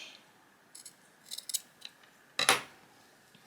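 Scissors make a few quiet snips through elastic while finishing a crocheted scrunchie, with small clicks that end in one sharper cut near the close.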